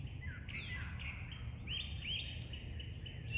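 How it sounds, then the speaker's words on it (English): Several small birds chirp and tweet in short, high calls, fairly faint and a little distant, over a low background hum. "these sweet little birds having quite a conversation up in the top of the tree"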